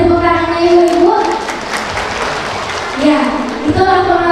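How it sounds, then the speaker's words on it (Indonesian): Women at a religious study gathering in a mosque clap for a short burst that fades, and a voice talks over the microphone before and after the applause. "Boleh tepuk tangan ibu-ibu?"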